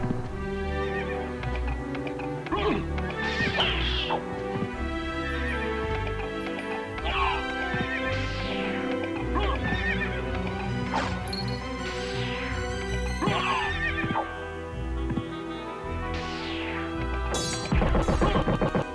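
Repeated horse whinnies and snorts ring out over constant game music and clattering effects, with occasional crashes and hoof sounds, in a Castlevania: Symphony of the Night-style video game.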